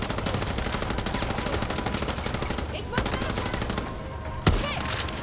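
Rapid, continuous automatic gunfire from the video game Far Cry 6, dense and loud throughout, with a few sharper single shots standing out near the end.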